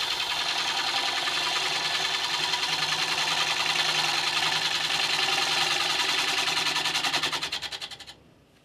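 A wood lathe shapes the base of a segmented bowl after the tenon is removed, a steady dense whirring with cutting noise that runs continuously for about seven seconds before winding down at the end.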